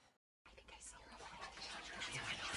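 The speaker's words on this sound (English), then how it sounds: "At the door, she heard whispering." Whispering in the video game What Remains of Edith Finch, a hushed breathy murmur that swells steadily louder after a brief silent gap, close and intimate with no clear words.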